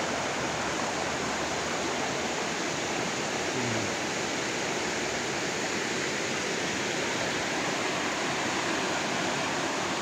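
Strong water from Mount Isarog rushes over large rocks in a steady, dense roar, loud and close, with no breaks and no voices.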